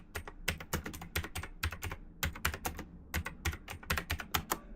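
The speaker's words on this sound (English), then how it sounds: "You get to hear my China special mechanical keyboard though." Fast typing on a mechanical keyboard gives close, crisp clicky keystrokes in quick bursts with short pauses, quiet and alone.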